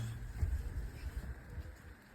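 Pet pigeons coo softly in low, rounded, repeating calls, faint and close, with a quiet background and no clear speech.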